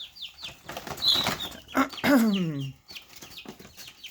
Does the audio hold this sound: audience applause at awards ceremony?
no